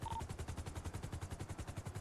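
Rapid automatic gunfire in a video game, steady bursts aimed at a helicopter, loud and rhythmic across the whole stretch with no talking.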